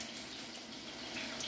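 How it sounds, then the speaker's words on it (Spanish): Water draining from rinsed rice into a pot, a soft steady trickling hiss heard alone and fairly faint. "Pero ya es poquito lo que está escurriendo."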